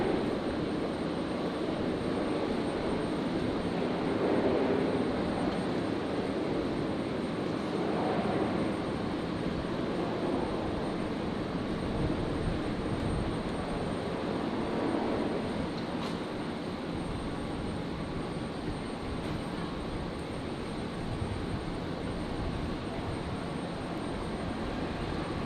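A Virgin Boeing 737 arriving from Townsville and landing on runway 01 left at Brisbane Airport at night. Its engines give a steady, distant roar with gentle swells, and no voices are heard.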